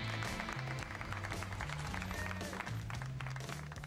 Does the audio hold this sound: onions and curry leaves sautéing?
no